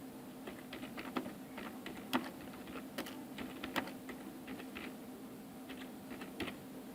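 Soft keyboard typing as code comments are entered for an Arduino program, a quiet irregular patter of key presses with occasional sharper taps over a faint steady hum.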